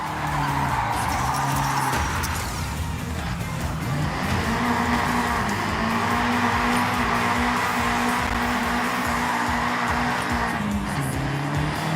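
Nissan Silvia S-chassis car drifting in the racing game Forza Horizon 6, its engine droning steadily with sustained tire squeal through a long slide, loud and continuous for the whole stretch.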